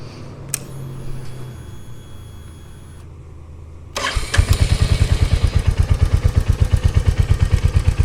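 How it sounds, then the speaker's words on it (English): Royal Enfield Hunter 350 motorcycle fitted with a Coffman's shorty slip-on exhaust cranks and fires after a quiet stretch, then settles into a loud, close, rhythmic lopey idle thumping steadily. "Let's get this started up, and we'll do idle reading,"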